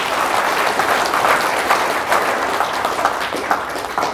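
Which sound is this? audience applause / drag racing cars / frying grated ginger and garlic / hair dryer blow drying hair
audience applause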